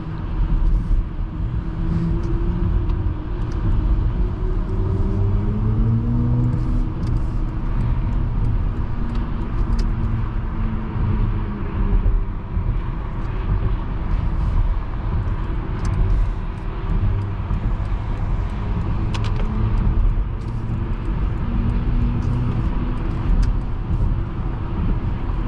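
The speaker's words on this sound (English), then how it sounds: "I tap the accelerator and just floor it." A 2022 BMW iX xDrive50 or Tesla Model Y electric car floored from a tap of the accelerator, a low steady whine and road rumble building inside the cabin for a long stretch, with no talk.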